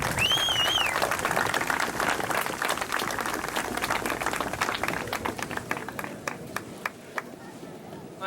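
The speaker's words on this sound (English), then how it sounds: "let's give a round of applause for Mr." Audience applause at an outdoor field dedication ceremony, a steady wash of clapping that thins toward the end into scattered individual claps. A voice speaks over the start.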